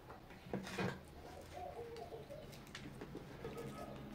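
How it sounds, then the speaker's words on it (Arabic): Pigeons coo faintly in the background, soft repeated low calls over a quiet household ambience, with a brief brighter bird chirp early on. "صوت حمامي"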